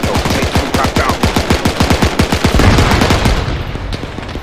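Rapid bursts of automatic gunfire in a WW2 co-op shooter game, a dense run of sharp shots that slowly eases off near the end of the stretch.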